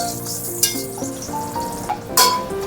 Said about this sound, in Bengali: এবার এই যে দারচিনি, এলাচ আর এই তেজপাতা দিয়ে দিলাম, এটা একটু ভাজা হোক